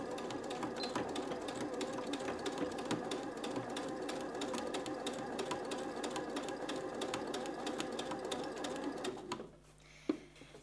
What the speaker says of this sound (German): Ich lasse die Nadel unten und nähe genau neben dieser Linie entlang.